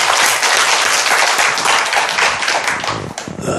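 Church congregation applauding during a Sunday sermon, loud dense clapping filling the whole moment with a slight dip near the end, no talk over it.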